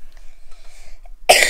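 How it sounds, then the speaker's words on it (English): A child coughs once, loudly and sharply, near the end, after a faint and mostly quiet stretch. "Cover your mouth when you cough, okay?"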